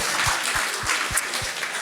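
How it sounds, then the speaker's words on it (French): An audience applauds itself on a French television show, steady dense clapping with faint thumps in a regular beat beneath, no talk. "Vous pouvez vous applaudir, bravo."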